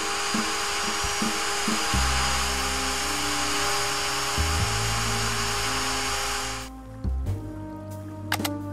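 A dentist's drill in the video game The Wardrobe gives a steady, close, high-pitched whine over a low droning tone for most of the stretch, then cuts out abruptly and returns in short, sharper bursts near the end.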